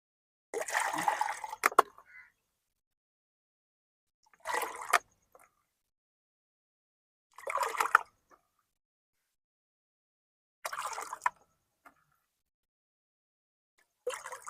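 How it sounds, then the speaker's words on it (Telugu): Water is poured into sour buttermilk mixed with a pinch of asafoetida in five separate bursts, each a short splashing pour of about a second with silent gaps between them. "కొంచెము వేసిన తర్వాత 5 వంతుల నీళ్ళు అనేది పోసేసేయండి."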